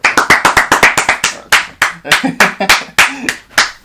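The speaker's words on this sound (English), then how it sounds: "Round of applause for Lars." A small group applauding for baseball player Lars Nootbaar, a run of sharp, distinct handclaps in quick irregular rhythm, close and loud, lasting a few seconds.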